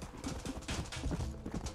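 Horse hooves clip-clopping in a Western video game, a quick rhythmic trot of steady beats close by amid other game sounds.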